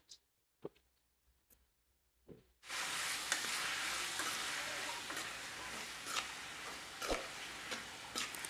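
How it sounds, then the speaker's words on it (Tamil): Curry leaves and salt hit hot oil in a pan after a few scattered clicks, breaking into a loud, dense sizzle that keeps going close up, with occasional sharp pops and stirring ticks. "எல்லாம் போட்டு வதங்கிட்டு இருக்கு."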